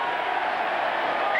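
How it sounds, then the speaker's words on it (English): A rugby stadium crowd roars in a steady, dense wash of cheering for an England try against Australia, loud and sustained throughout with no breaks. "And listen to the crowd here."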